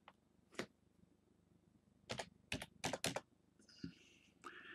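Scattered keystrokes on a computer keyboard as a deposit amount is typed: single taps, then a quick cluster of clicks, followed by short electronic beeps near the end.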